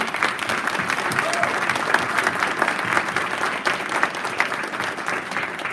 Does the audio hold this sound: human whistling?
no